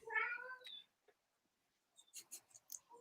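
A cat meows loudly and close up with a drawn-out harmonic cry, followed after a short pause by a few faint, scattered clicks and rustles.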